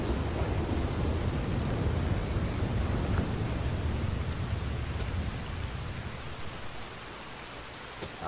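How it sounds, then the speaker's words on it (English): Video game rain falling as a steady, dense hiss of droplets, fairly soft and even throughout, easing slightly toward the end, with no speech. "I'm glad that it's raining"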